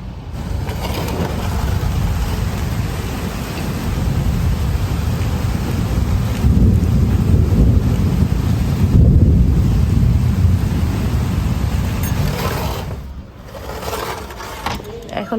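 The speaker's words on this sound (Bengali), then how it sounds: "আর বৃষ্টি খুব জোরে এখনো" Heavy rain pours in a storm, a dense, loud, continuous roar with wind buffeting the microphone, steady throughout and easing slightly near the end.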